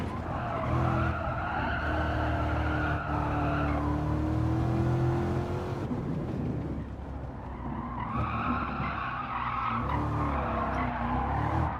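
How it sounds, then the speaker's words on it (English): An AMG GT or C7 Corvette on track squeals its tyres in long sustained screeches that waver in pitch, break off briefly mid-way, then return over the car's engine. "And here the tyres scrabbling"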